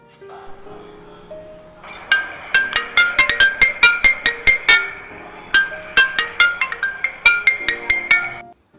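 A phone rings at home in a kitchen setting, a bright repeating electronic ringtone melody playing alone for several seconds in quick bursts.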